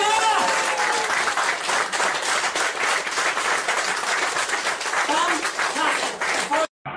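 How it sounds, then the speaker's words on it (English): Audience erupting in loud, sustained applause and cheering after a magic card reveal, dense clapping with excited voices over it, cutting off abruptly near the end. "everyone will go majorly mad with applause"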